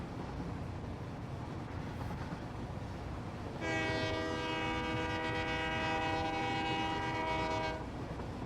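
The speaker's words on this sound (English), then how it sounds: "Obligatory train whistle." A steady train whistle in the video game Satisfactory sounds for about four seconds, one long harmonic blast over a constant low background rumble.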